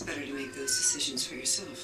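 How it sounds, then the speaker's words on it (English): Cat meows rise several times in short bursts, heard over and between a person speaking in the foreground. "Sorry about the cat."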